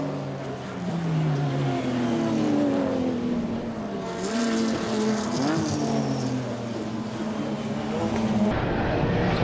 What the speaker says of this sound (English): Car number 29 of Brad Wheeler rounds out a big field of cars as we catch up through the S's